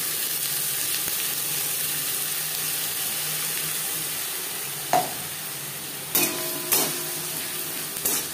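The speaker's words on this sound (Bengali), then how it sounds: "এভাবে নাড়াচাড়া করে ড্রাই করে দেব যতক্ষণ না পর্যন্ত কড়াই" Bottle gourd leaf paste is stir-fried with garlic in a kadai over high to medium flame, producing a steady frying hiss, with several sharp scraping and clanking strokes of the spatula toward the end and no speech.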